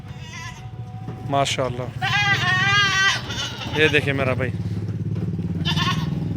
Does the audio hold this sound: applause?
no